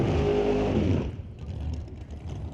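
A blue 1968 Chevelle drag race car making a qualifying run, its loud engine roar dominating the first second before dropping away into a lower, rumbling fade as the car pulls off into the distance.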